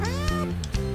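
A cat meows close by, several quick, clear, tonal cries in succession over about a second, with no voices.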